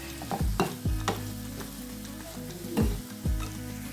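Ground pepper and garam masala frying in a pan for a Kerala jackfruit seed masala, stirred in a few firm scraping strokes over a low continuous sizzle, close and without talk.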